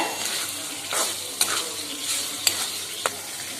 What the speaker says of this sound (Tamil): இப்போ சேர்த்து நல்லா வதக்கிக்கலாங்க